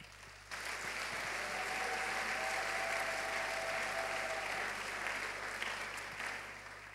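A church congregation claps steadily through a Sunday sermon service, a dense, sustained wash of applause that holds loud for several seconds before thinning toward the end.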